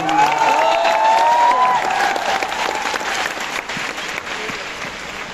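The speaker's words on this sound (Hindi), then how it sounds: "एक बार जोरदार तालियां" Stadium audience applauding loudly at a live event in Thyagraj Stadium, Delhi, a dense sustained clapping with a faint cheer that slowly fades over several seconds.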